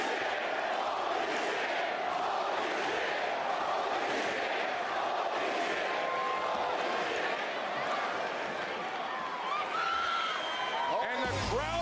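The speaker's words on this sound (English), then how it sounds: "And the crowd reaction tells you everything you need to know." A Friday Night SmackDown wrestling crowd roars in a sustained, dense wash of cheers and shouts as Baron Corbin returns holding the U.S. Championship White Fur Legacy Edition, with a commentator's voice running over the noise.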